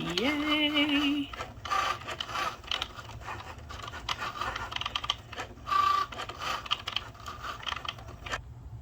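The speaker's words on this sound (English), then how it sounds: "these labels are going to be printed in the Cricut Joy" A Cricut Joy machine printing vinyl labels makes an opening rising whir, then a steady mechanical hum broken by irregular clicks and scraping pulses from the moving carriage.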